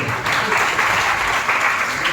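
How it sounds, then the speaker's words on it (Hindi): An audience at a religious discourse breaks into clapping, a dense, steady burst of many hands that starts after a brief pause and carries on to the end, with a voice faintly underneath. "अब बजाओ ताली।"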